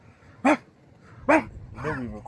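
A man mimics a dog with his voice, giving two short, loud barks about a second apart, followed by a rougher, drawn-out vocal sound; the barks stand out over a quiet background.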